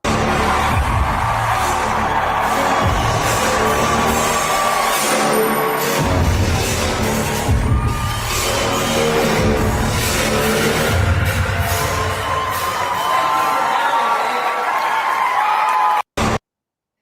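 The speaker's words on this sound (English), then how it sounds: "They were cheering for him." A packed crowd at a TPUSA event cheers in a dense, continuous roar with scattered claps and yells, sustained loud throughout before cutting off abruptly at the end.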